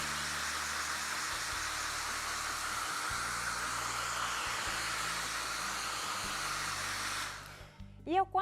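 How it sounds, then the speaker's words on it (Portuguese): A hair dryer runs steadily at close range, drying glue on a flowerpot holder being given a faux rust finish, a continuous loud airy whoosh that cuts off near the end, leaving brief low clatter. "eu pego o secador de cabelo e acelero um pouco, ele seca rapidinho"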